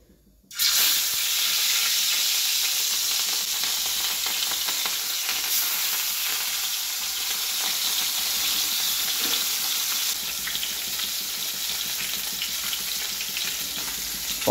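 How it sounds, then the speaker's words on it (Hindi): Fish pieces dropped into hot mustard oil on a tawa burst into loud, bright, crackling sizzling that holds steady and close, with no voices over it. "ए सोरिष तेल अल्प देदे तो ये तावे तेल पूरा तातीगला गोटे पर गोटे पीस देदे"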